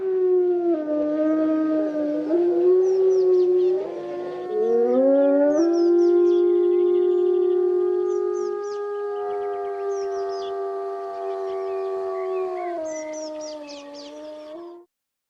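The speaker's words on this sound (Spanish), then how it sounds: "para que en las noches españolas no dejen de escucharse los hermosos aullidos del lobo" Wolves in the Spanish night raise a long chorus of overlapping howls, sustained, gliding tones that rise and fall together for about fifteen seconds, fairly clear and close with no talking.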